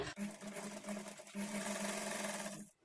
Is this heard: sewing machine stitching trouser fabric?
yes